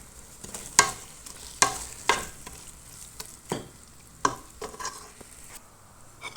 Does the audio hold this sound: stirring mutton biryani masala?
yes